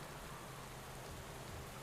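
Steady rain hiss from the Pro Cycling Manager 21 cycling game, a continuous broadband wash of falling rain with no voices and no breaks across the short stretch.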